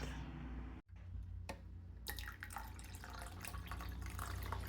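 Water pours into a pot of drumstick dal, with a trickling, splashy wash that breaks off briefly and then resumes with light drips and sloshing, quiet and close.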